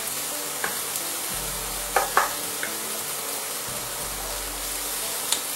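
Steady sizzle of shallots frying in a pan, with a few sharp clinks of a utensil against the pan.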